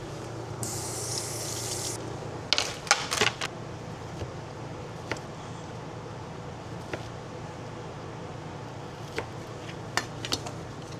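Tteokbokki mixed in a pan in a home kitchen, with scattered clinks and scrapes of a utensil over a steady background hum and a short spray-like hiss near the start, with no talking.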